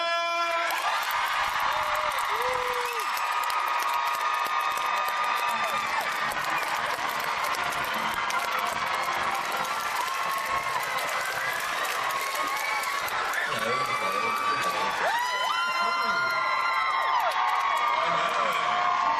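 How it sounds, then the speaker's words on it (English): A fan convention crowd at Wizard World St. Louis claps and cheers continuously to welcome actor Matt Smith, with whoops and shouts rising over the sustained applause and another burst of cheering near the end. "Please put both your hearts together for a nice round of applause and a warm welcome to Mr. Matt Smith"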